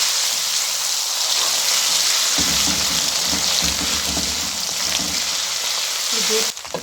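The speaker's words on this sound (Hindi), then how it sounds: "इसको 5 मिनट भूनेंगे" Ginger garlic paste fries in a pan with a loud, dense sizzle, the crackle thickening partway through as stirring adds low scraping, then dropping off sharply near the end.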